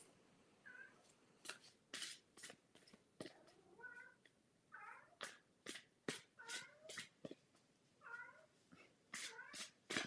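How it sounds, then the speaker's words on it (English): A cat meowing to be let into a room gives repeated soft, plaintive meows in a quiet indoor space, mixed with sharp scratching or tapping sounds. "I'm going to let my cat in the room."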